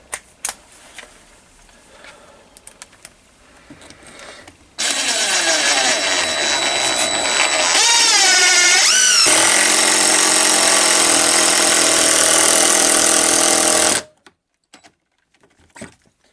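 Cordless Stanley FatMax impact driver sinking a screw through plywood into softwood: a loud, close, sustained whirring motor with rattling impact hammering for about nine seconds, its pitch shifting midway as the screw bites, then stopping abruptly.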